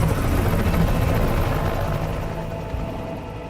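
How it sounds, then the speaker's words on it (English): A helicopter from Cyberpunk 2077 Phantom Liberty roars loudly overhead as a steady, dense rotor wash that slowly fades over a few seconds, with no talking. "V, if that chopper gets a lock on us, we'll be as good as dead."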